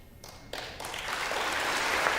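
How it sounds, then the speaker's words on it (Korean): Applause rises from a large audience at a joint address to the US Congress. The clapping builds quickly and swells into a steady, dense roar after about half a second. "여기서 미국 사람들이 박수를 칠 수밖에 없죠"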